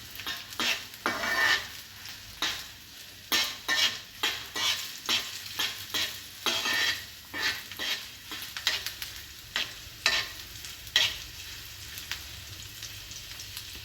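Onion frying lightly in a little mustard oil, with a soft constant sizzle broken by repeated scraping stir strokes in an irregular rhythm, close and with no talking.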